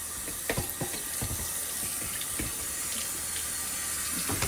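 Tap water runs steadily over canned garbanzo beans being rinsed in a kitchen sink, a continuous close splashing hiss with small irregular spatters.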